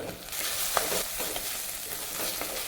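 Coconut oil with mustard seeds and two dried chillies sizzles in a hot pan, a short, even frying hiss dotted with small pops and crackles, close by with no talking.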